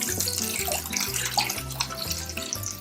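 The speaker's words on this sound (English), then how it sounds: "And add your milk to your pot." Milk pours steadily into a pot on a stovetop for a pastry cream, a continuous close liquid stream with no talking.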